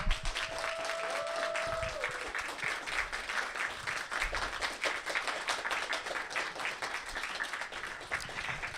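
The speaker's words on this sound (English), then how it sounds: "Let's give both bands another round of applause." A live studio audience applauds steadily for two bands at a music show's season finale, a dense, even wash of clapping lasting the whole stretch with a brief tonal whistle early on.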